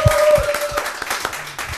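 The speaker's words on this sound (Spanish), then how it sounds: "Vamos a darle un aplauso a ellos" Applause from a studio audience at a Spanish-language talent show, a short burst of clapping that is loud and close, with a voice speaking over it.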